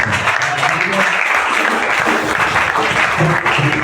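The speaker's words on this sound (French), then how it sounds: "Acclamons Jésus-Christ" A church congregation applauds during a French-language service, dense sustained clapping throughout with voices calling out over it.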